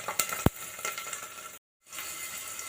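Garlic hitting hot oil in a tadka of mustard seeds, cumin and asafoetida for a bhaji, crackling and sizzling steadily at close range with a few sharp pops and a brief silent gap.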